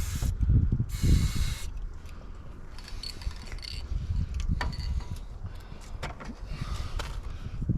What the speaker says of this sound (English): Spray a little bit up there.